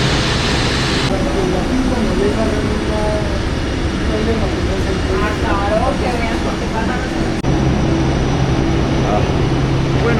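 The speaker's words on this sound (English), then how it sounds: "I'm guessing that's our plane." Steady roar of airplane engines at a small airport before boarding, a loud continuous drone that holds for the whole stretch with a slight shift near the end, faint voices mixed into the background.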